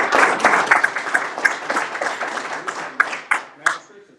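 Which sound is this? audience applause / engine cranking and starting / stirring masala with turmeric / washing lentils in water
audience applause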